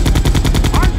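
Rapid gunfire in the PlayStation 1 game Resident Evil 2: a loud, close burst of about eight evenly spaced shots in one second, machine-gun style.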